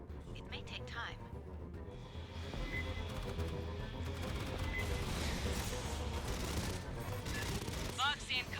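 Rapid automatic gunfire in the co-op shooter Aliens: Fireteam Elite, dense continuous bursts that swell after two seconds and keep going, with game voices and effects over the top.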